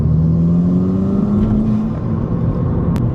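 A Golf GTI fitted with a Race Chip throttle tune accelerates in third gear on open road, its engine note rising steadily from inside the cabin, loud and continuous, before easing off.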